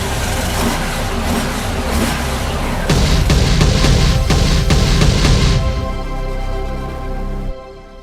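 A Honda Goldwing motorcycle engine revs as the throttle is twisted, a loud throaty roar that rises in a series of pulsing surges before dropping back toward idle and cutting off.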